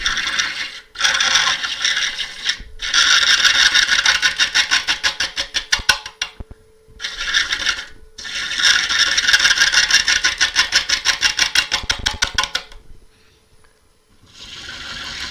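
A tool cuts into a gnarly crotch-wood bowl spinning on a wood lathe to form a tenon, a loud rapid chattering scrape in several long passes broken by short pauses.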